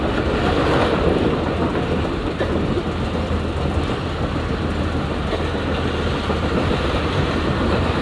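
The Shalimar Express rolls along its rails through smoke and fog, a loud, continuous rumble with steady clatter from the wheels and carriages close by, with no voices over it.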